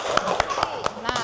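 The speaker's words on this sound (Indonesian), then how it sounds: "Beri tepuk tangan." Students in a classroom clap along in a short burst of about five evenly spaced, sharp claps, close and fairly loud.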